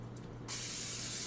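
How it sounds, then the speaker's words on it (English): Cooking spray hisses into a pan for rice crispy treats: after a faint click, a sudden steady aerosol spray starts and continues at close range. "spray your cooking spray everywhere"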